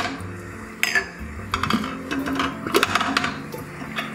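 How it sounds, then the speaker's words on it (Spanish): Glass canning jars for homemade preserved tomatoes clink and knock against a metal pot as they are lowered into boiling water, giving a few sharp, irregular rattles over a low bubbling background, close and without talk. "empiezo a introducir los tarros dentro del agua hirviendo."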